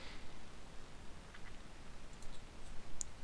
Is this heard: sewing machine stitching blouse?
no